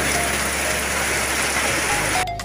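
Steady rain falls on a sugarcane field, a loud, dense hiss of drops on leaves and ground continuing without pause.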